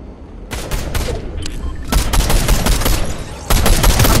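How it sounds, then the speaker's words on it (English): Fortnite gunfire comes in loud, rapid automatic bursts, several volleys close together with short gaps, sharp and near, with no talking. "Who is shooting? He's shooting at me. They're shooting at me."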